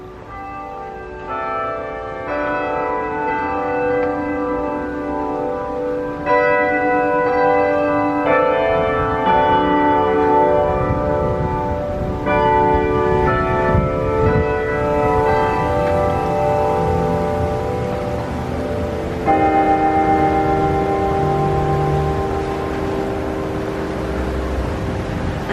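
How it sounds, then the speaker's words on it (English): Church bells ring at a historic Catholic church in Key West, Florida, sounding a series of loud, resonant strikes with long overlapping decays, about half a dozen tolls spread over the span with faint ambient background. "The church bells are ringing."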